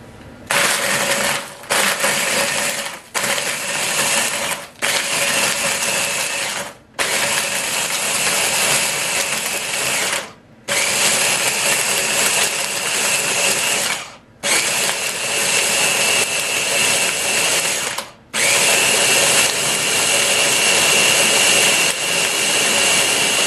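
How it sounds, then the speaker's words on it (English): A Ninja blender crushes ice cubes into a shake, roaring loudly in a run of about eight pulsed bursts separated by brief gaps, with no talk over it. "This Ninja blender is really good at pulverizing ice cubes, and it'll turn ice cubes into like fluffy shaved snow."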